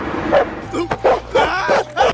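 A guide dog gives a run of close yipping barks and whimpers, four or five sharp bursts in quick succession, with voices talking around them in a cartoon scene.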